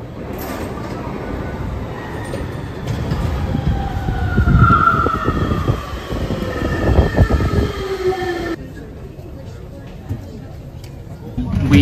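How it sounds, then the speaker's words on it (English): A small train at Gare Lille Flandres in Lille, France, rumbles and rolls steadily with a rising whine and some squealing, fairly close. People talk over it throughout. "Here it is, and it looks as though it's a very small train."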